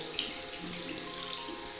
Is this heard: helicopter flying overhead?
no